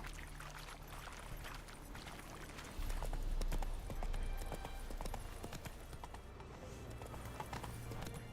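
Horse hooves galloping in The Witcher 3: Wild Hunt, a fast, dense clip-clop over a low rumbling bed of wind and movement, near and fairly loud throughout.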